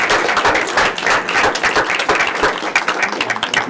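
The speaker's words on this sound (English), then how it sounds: "Let's give everybody a round of applause." Audience applause at a middle school event, dense sustained clapping from a crowd filling the whole stretch at steady loudness.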